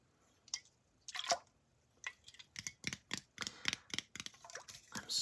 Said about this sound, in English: I just put some water in here so that we can have some nice water sounds.